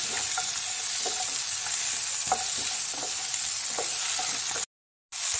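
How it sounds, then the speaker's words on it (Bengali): Ginger, garlic, cashews and tomato sautéing in a pan, a close steady sizzle with repeated scraping stirs of a spatula, then a brief cut to silence near the end. "কাজু বাদাম আছে টমেটো, এগুলো হালকা সতে করে নিচ্ছি।"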